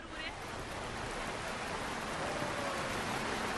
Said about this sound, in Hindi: जिस तरीके से बारिश हो रही है